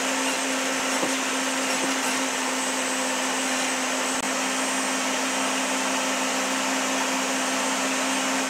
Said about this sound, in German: ich muss jetzt 8 mm tief das Ganze hier ausschneiden an der Tischkreissäge